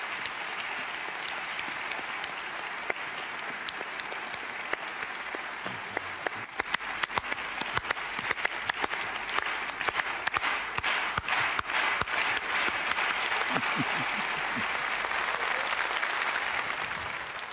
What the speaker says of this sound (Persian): خب تشویق کنین مادر صلاح الدین